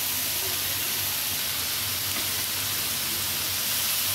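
Eggs fry in a pan with chili and ground coriander, giving a constant close, even sizzle and hiss with no break and no talking.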